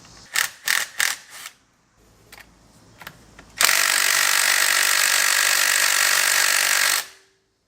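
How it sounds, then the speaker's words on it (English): A small impact wrench loosens seized 14 mm bolts on a Lexus front suspension: a few short sharp bursts, then one loud, steady, close-up rattling whir lasting several seconds before it cuts off. "we're going to use our little impact"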